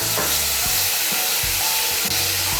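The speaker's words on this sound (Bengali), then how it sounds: "এই পেস্টটা এখন আমি এর মধ্যে দিয়ে দিচ্ছি।" Spice paste of turmeric, cumin and chilli powder hits hot oil for a fish curry, erupting into a loud, close, roaring sizzle with steady hiss and occasional knocks of stirring.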